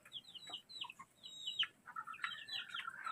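Chicks and a mother hen, white Kelso chickens, peep and softly cluck close by, with a quick run of high chirps and a low hen call over quiet background.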